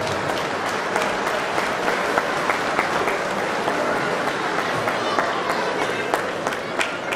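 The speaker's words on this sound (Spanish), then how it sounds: "Quisiera darle un fuerte aplauso para él y todo su esfuerzo." An audience at a rural society event gives sustained applause, a dense, even patter of many hands clapping for several seconds, with a few sharper individual claps standing out.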